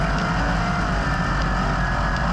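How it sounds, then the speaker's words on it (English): Sprint car engine at Jackson Motorplex sputtering and misfiring as it runs hot, a loud continuous rough roar with uneven low-end pulsing and no talk over it. "And now is when the sputtering and missing is going to start."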